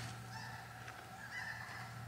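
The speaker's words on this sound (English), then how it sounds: "we found a couple of geese" Faint honking calls of geese flying overhead, distant and thin over a low steady hum, repeating a few times.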